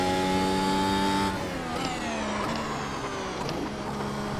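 A Mercedes-AMG W13 Formula 1 car in iRacing holds a loud, steady engine whine, then drops sharply as revs fall, followed by rapid downshift blips and fluctuating engine tones.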